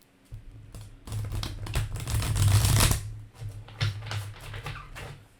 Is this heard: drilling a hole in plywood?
no